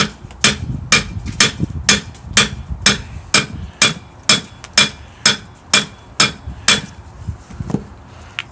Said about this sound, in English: Let's go ahead and smack it a couple times with the peen and see what happens.